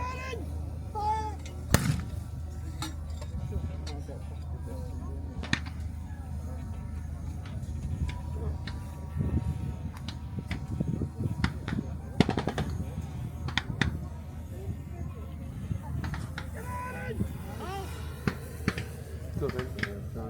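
Scattered gunfire at a WWII-style battle reenactment: sharp rifle and machine-gun shots crack at varying distances over outdoor ambience while people talk and shout nearby.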